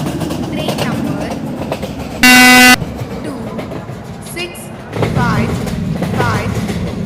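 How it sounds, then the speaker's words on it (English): The Deccan Odyssey Special Express pulls into an Indian Railways station platform with a steady rumble, a loud sharp horn blast midway and swelling wheel clatter toward the end, while a station announcement plays over it. "2655 Deccan Odyssey Special Express is arriving at platform number 2."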